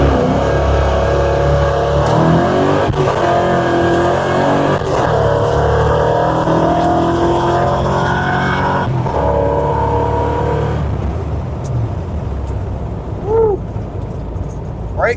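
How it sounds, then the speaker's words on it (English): A street car pulling away hard on a road test run, a loud sustained engine roar rising as it accelerates, then fading and thinning out near the end, with a few sharp squeaks. "All right, we're going to try it to start with no burnout."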